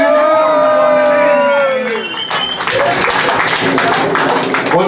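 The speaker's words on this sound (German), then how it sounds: "Ein Applaus für Monzi" Club audience at a hip-hop tour show in Wuppertal erupts into applause and cheering after a shouted introduction, loud dense clapping and whoops filling the room for several seconds.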